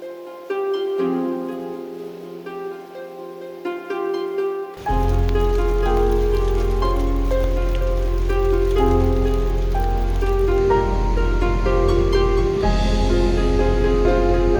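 Steady rain hisses in a dense, continuous patter while camping on the West Coast Trail, starting a few seconds in and continuing to the end.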